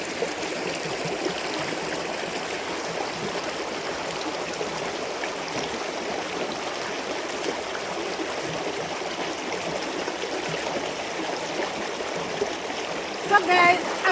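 Sandals being washed in a running stream in a village, a steady close rush and trickle of flowing water throughout with faint splashing, and a voice speaks over it.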